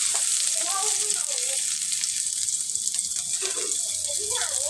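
Garlic, onion and tomato sautéing in a pan at home, a steady loud sizzle and hiss with faint background voices underneath.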